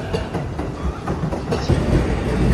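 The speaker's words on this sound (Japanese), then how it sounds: "あれ、通勤快速ですね。" A Saikyo Line commuter rapid train runs through Shinjuku station during a heavy snow warning, its wheels clattering steadily over the rail joints in a loud, close rumble that builds toward the end.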